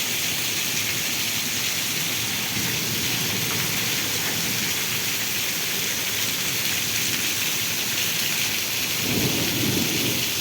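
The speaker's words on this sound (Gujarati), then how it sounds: "કેટલો અતિ ભારે વરસાદ પડી રહ્યો છે." Heavy rain pours down during a village thunderstorm with lightning and wind, a dense, loud, continuous roar of rainfall with rumbling thunder swelling beneath it, no voices.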